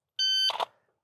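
A shooting drill timer gives one sharp, steady electronic beep, followed at once by a short burst of noise close by.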